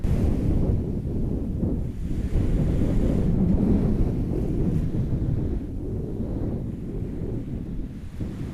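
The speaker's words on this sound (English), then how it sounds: "There is a heap of wind" Strong wind whips across a remote beach on the Great Barrier Reef, buffeting the microphone in a constant heavy roar, with surf rumbling underneath and no voices.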